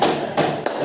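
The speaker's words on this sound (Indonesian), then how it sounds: "Pukul palu dulu." A hammer raps twice in quick succession to open a combined class session, two short sharp strikes over steady room noise.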